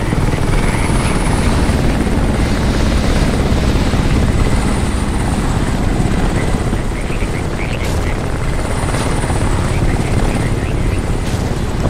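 A helicopter in the video game Crysis Remastered roars with a loud, constant rotor thrum and engine whine throughout, close and steady, while someone talks over it.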